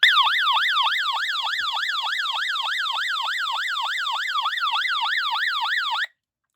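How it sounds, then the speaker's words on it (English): A solar hand-crank NOAA weather radio's loud electronic SOS siren wails in a fast, regular up-and-down sweep, repeating steadily for about six seconds before cutting off abruptly. "when I turn this on, you're going to hear sirens going and the lights flashing"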